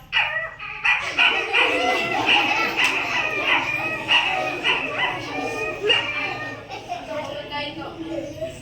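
A human voice imitates a small dog yapping, with rapid high-pitched barks repeated continuously for several seconds, close and loud.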